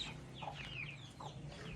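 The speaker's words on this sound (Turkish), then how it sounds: "Sussex civcivlerimiz yaklaşık bir aylık" Month-old Sussex chicks cluck and peep softly over a steady low background hum, with short chirpy calls scattered throughout.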